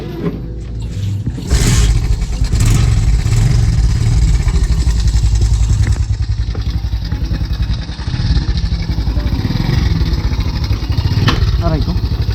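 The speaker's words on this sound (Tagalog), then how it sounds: "Itong motor gagamitin natin." A motorcycle engine runs close by with a steady, rough idle and a loud clattering rumble, occasionally revving, while people talk over it.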